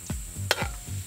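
Garlic frying in a pan for a savory coconut-milk adobo, a short burst of close sizzling with a few quick scraping stirs of a spoon.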